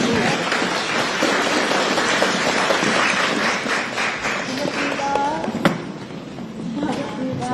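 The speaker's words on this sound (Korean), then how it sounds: "모두 일어나셔서 영부인님을 박수로 환영해 주시기 바랍니다." A standing audience applauds to welcome the first lady at a meeting with Korean community members in Canada, a dense, loud wash of clapping that carries on for several seconds before easing slightly.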